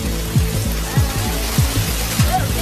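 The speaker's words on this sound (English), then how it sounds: "This is some legit rain." Heavy rain pours down in a steady, dense, loud hiss, with low thumps repeating at a regular beat underneath.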